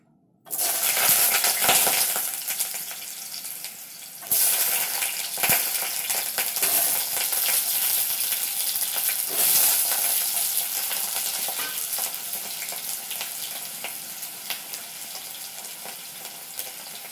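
Small potato pieces with salt and turmeric fry in a pan, producing a bright, continuous sizzle with clinks and stirring scrapes at the start, then a long steady hiss.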